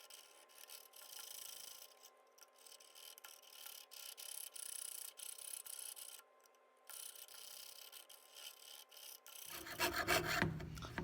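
A jeweler's saw cuts metal in slow, even strokes, a faint fine rasping rhythm close by with short gaps, ending in a brighter scrape as the blade finishes.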